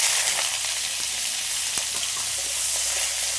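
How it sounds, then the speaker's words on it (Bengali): Squeezed, salted water lily stems fry in a wok, giving a dense, even sizzle close up that holds steady for a few seconds with no voices. "এবার আমি কড়াইয়ের মধ্যে দিয়ে দেবো, এগুলো একটু ভেজে নেব।"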